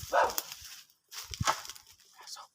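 A dog barks in a few short, sharp bursts at a moderate distance, separated by brief gaps, in an outdoor setting with faint background noise.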